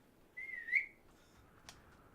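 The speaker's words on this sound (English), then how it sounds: "Can I whistle to have my car come to me?" A short rising whistle in the Mad Max video game to call the car, one clear note lasting under a second, followed by a faint click, otherwise quiet.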